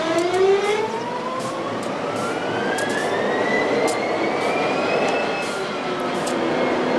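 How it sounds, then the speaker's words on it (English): The diesel engine of a BNSF SD40-2 locomotive in a train simulator game starts up, a loud rising whine that climbs steadily in pitch over several seconds, with a few faint clicks on top. "Once you prime the engine, hold in the start position for another 10 seconds."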